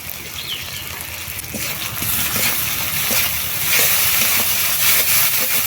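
A spice paste of cumin and mustard with salt, turmeric and chili powder fries in a pan, giving a continuous loud hissing sizzle that steps up in intensity partway through and stays strong.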